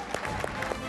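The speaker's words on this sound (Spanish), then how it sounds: "Fuerte el aplauso." Dense studio applause fills a TV cooking show studio as the cooks enter, a steady wash of clapping with a few shouted cheers rising above it.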